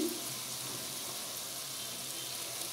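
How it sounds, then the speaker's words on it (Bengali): Diced onion and cubed potato frying together in a pan, a steady broadband sizzle that holds evenly throughout at moderate level with no voices. "পেঁয়াজ আলুটা আমি একসঙ্গে ভেজে নেব"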